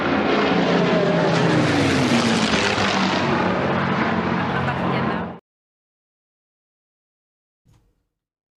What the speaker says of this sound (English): I'll let everybody listen now to the lovely sound of the Hurricane and Spitfire